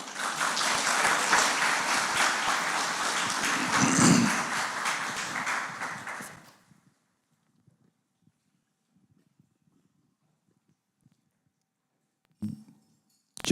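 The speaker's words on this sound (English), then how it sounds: "So let's give a big round of applause for Brother Steve." Audience applause at a Jashan e Shahi celebration event in London: a dense burst of clapping lasting about six seconds, swelling briefly before fading out, then near silence broken by a short knock or tap.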